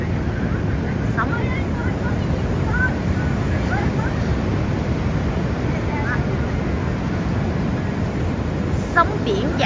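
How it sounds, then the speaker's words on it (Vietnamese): Big ocean waves rolling onto My Khe beach in Da Nang in strong wind, a constant loud roar of surf and wind buffeting, with a few faint voices in the distance. "Sóng to lắm, bữa nay do gió lớn sóng to lắm."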